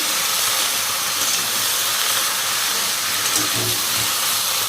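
Turmeric powder and cinnamon bark sizzle loudly in hot oil in a pan while being stirred, a steady close frying hiss with no break and no voices.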